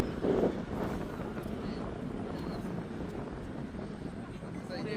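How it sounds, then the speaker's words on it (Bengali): Steady rumbling wind buffets the microphone throughout in rural Bangladesh, a dense low roar with faint distant sounds underneath. "কি বাতাস এমন?"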